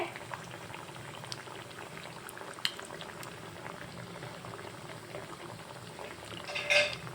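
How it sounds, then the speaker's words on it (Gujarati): Leftover rice cutlets fry in oil over a medium gas flame, giving a continuous fine sizzle with scattered pops and a brief louder crackle near the end, with no voices. "કટલેસને આપણે મીડિયમ ગેસ ઉપર તરવાનું છે"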